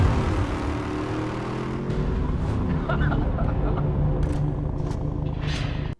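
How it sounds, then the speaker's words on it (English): Rumbling supercharged V8 engine of a Ram truck, likely Hellcat powered, much like a TRX, droning steadily in the background beneath talking, with a low growl holding throughout. "if you listen in the background, you hear it sounds like a supercharged TRX"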